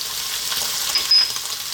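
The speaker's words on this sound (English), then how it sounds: "What we're going to do now is add some ginger." Sliced ginger sizzling in a wok during a beef and mushroom stir fry, a loud continuous close hiss with a brief louder crackle toward the end, no voices.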